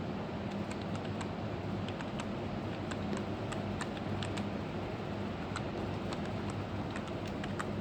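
Keys tapped on a computer keyboard to enter a project name for a real-time FIR filter on a DSP kit, scattered light clicks in irregular bursts over a steady broadband hum.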